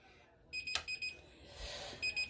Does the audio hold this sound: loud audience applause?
no